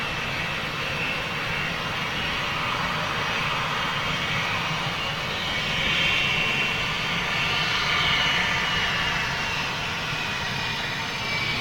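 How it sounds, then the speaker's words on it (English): A Boeing 757 at Gatwick Airport roars with a steady, close jet-engine rumble and broadband whine that swells slightly midway, holding loud and continuous throughout with no talking. "listen to this beautiful 757"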